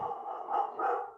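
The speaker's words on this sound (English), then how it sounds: "my dog is super excited about this, so hopefully you can hear him barking in the background." A single dog gives a drawn-out whining bark, muffled and slightly distant in the background, rising twice in quick succession.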